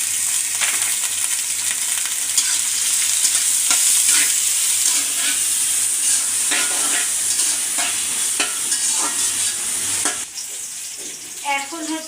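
Green chilies and onion frying in soybean oil in a village kitchen, a loud continuous sizzle with frequent spatula scrapes and stirring clinks, close up, briefly settling toward the end.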